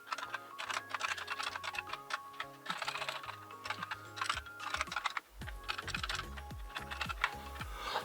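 Rapid typing on a BBC Model B computer keyboard being tested during a repair, close and steady clicking keystrokes running throughout with no speech.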